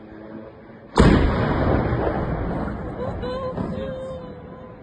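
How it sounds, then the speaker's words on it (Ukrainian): Explosions over a Russian city during a drone attack: a sudden, loud blast booms out, then a long rumbling roar slowly fades, with faint distant noises trailing afterward. "Над містом прогриміло кілька вибухів."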